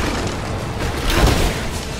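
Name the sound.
explosions in video game Rise of the Tomb Raider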